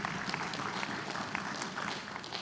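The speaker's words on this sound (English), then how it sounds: "let's give them a round of applause" Dense, steady applause from a crowd at an annual memorial service honoring volunteers, continuous clapping throughout without a break.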